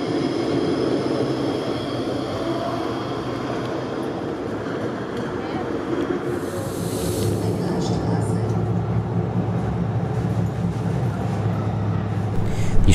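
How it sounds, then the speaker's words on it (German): A tram pulls away from the front of Halberstadt station, a steady, loud rolling rumble with mechanical whine and rattle that builds slightly toward the end, with background voices faintly mixed in. "mit der Straßenbahn, die vor dem Bahnhofsgebäude nun abfährt"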